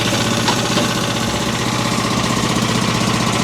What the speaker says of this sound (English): this engine is so strong that even at idle, it causes the blade to turn